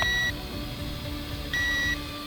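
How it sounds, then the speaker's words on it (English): Beeping from a BOLON TOYS K-950 trainer drone's transmitter: two high electronic tones, one at the start and another around a second and a half in, each lasting a fraction of a second over a low steady background hum. "We do have a constant beep on our transmitter"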